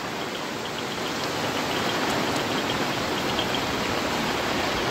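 Heavy rain pours down in a village in a dense, even hiss that stays steady and loud throughout, with no voices.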